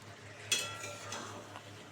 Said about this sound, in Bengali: হালকা হাতে নেড়ে দিলাম